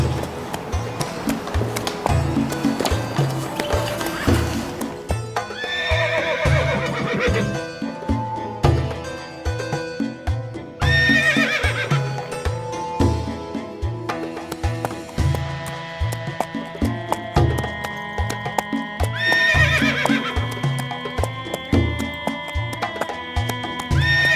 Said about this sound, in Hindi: ये कैसी आवाजें हैं? अरे इतने सारे घोड़े